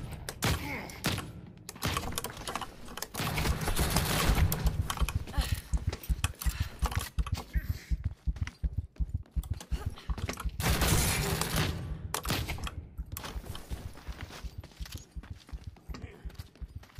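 A Howler grenade going off in the video game The Cycle: Frontier, heard as a dense, loud, sustained crackle of rapid staccato bursts that keeps rattling for many seconds, surging twice before easing.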